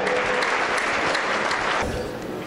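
Hall audience breaks into sustained applause welcoming a keynote speaker at a business night event, a dense wash of clapping that runs steadily throughout and eases slightly near the end.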